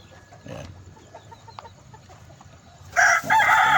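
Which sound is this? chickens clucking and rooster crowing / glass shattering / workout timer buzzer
chickens clucking and rooster crowing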